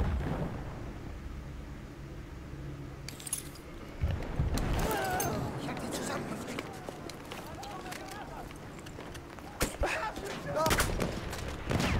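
Sniper and rifle fire in the video game Battlefield 1 multiplayer, scattered sharp cracks and bursts at irregular intervals, some close and loud, mixed with footsteps and a voice talking over the action.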